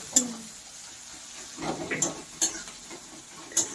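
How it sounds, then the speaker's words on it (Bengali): Onion frying in oil in a home kitchen pan, with a soft sizzle under occasional stirring and scraping, a few sharp utensil clinks, and a voice speaking quietly at times. "একদম পেঁয়াজটা নরম হয়ে যায় এইভাবে ভেজে নেবেন"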